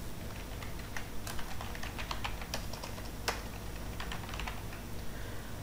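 Fingers tap out details on a computer keyboard in a rapid, uneven run of crisp clicks, recorded close with no talking.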